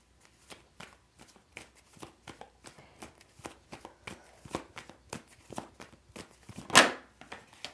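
Tarot cards being shuffled on a table: repeated soft riffling flicks and taps in an uneven rhythm, close and quiet, ending with a brighter slap as cards land.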